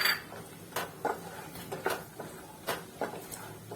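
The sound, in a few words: peanuts being added to a pan for upma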